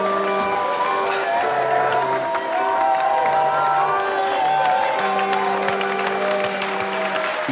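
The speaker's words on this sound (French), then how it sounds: "et toute la salle applaudit" A large brasserie dining room full of people applauding a birthday celebration while a barrel organ plays, the clapping continuous and dense throughout with the organ tune clearly audible under it.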